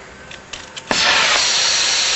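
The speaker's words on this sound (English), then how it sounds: "I'm going to light it up. Something they call a striker" A few faint scraping clicks come from a striker on a plumbing torch, then the gas catches with a sharp pop and settles into a steady close roaring hiss of flame.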